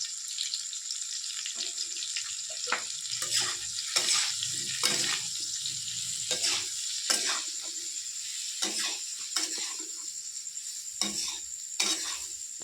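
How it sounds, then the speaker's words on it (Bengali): Vegetables sizzle in a hot pan while being stirred, a steady frying hiss broken by repeated scraping strokes of the spoon, close and clear with no talking. "সবজিটা আমার অনেকটা ভাজা হয়ে গেছে"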